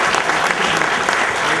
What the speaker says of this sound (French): Très bien, ben, on peut vous applaudir.